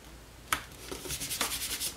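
A hand rubs firmly over layered paper card pieces, a near, soft scratchy friction after a sharp tap, repeating in quick strokes alone with no talk.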